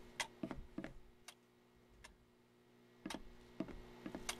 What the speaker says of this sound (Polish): To jest dźwięk belek, że one spadają.